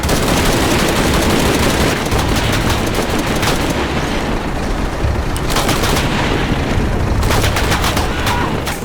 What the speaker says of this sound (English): Pilot in forward position, opening fire